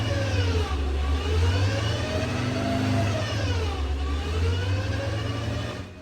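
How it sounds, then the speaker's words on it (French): A LameraCup race car engine warming up before track practice at Portimão, a loud, close, sustained mechanical drone whose revs gently rise and fall, with no voices over it. "Jérém est en train de faire chauffer la voiture avant les essais sur piste"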